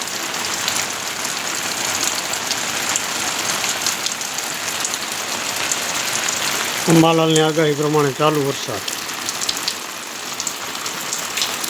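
Steady rain hisses throughout, and a voice breaks in briefly near the end over the downpour.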